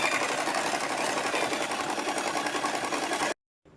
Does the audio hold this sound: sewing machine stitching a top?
yes